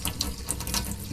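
Warm soapy tap water runs steadily from a faucet onto a pair of 1985 Paiste Formula 602 Blue Label hi-hat cymbals, a close, continuous splashing stream with no talk.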